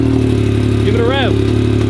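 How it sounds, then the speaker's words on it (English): A tuned Yamaha YXZ1000R side-by-side engine idles steadily, then briefly revs up and falls back once, loud and close, with voices nearby. "Give it a rev."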